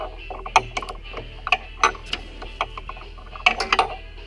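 Scattered clicks and small metallic creaks sound as a wrench unscrews a power steering hose fitting on a 2001 Jeep Wrangler, irregular and close over a low steady hum, with no talking.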